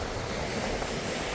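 Seashore waves washing in steadily as a broad, constant surf roar with a wind-like hiss, fairly faint and continuous, no voices.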